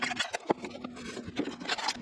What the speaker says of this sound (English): we're gonna switch to a scraper blade and get this thing hopefully detached from the workbench